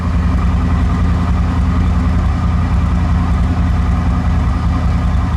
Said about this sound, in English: We'll listen to that idle.